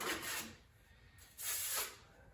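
A drywall knife scrapes mud into a big crack in a drywall wall, two soft rasping strokes separated by a quiet pause, faint and close.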